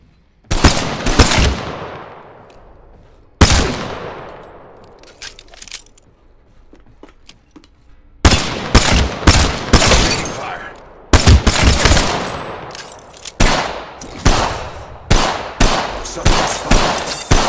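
Loud gunfire from the video game Apex Legends crackles in sharp repeated bursts and rapid automatic volleys, with brief pauses and ringing decays between them.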